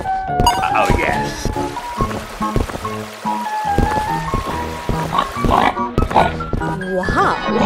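Pig oinks mixed into bouncy children's music, with a voice talking over the tune.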